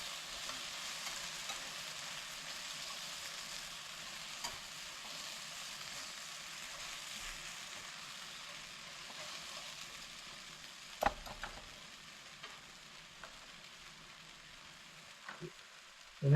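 Sauce for Cantonese crispy noodles sizzles and bubbles in a hot pan as it thickens, with a steady soft hiss and occasional scrapes and taps of a utensil stirring it, quiet and with no talking.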